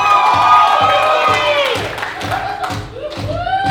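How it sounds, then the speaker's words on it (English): Wedding crowd in Melbourne, Australia, cheering and shouting with claps and rhythmic thumps, loud and near, with voices calling out over steady music beats. "let's start cheering for these guys"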